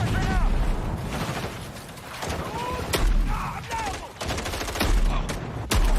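Rapid gunfire and heavy shotgun blasts from a video game trailer shown at a summer gaming showcase, dense explosive bursts with mechanical clanks and whooshes across the whole stretch, mixed with loud game audio and a voice beneath.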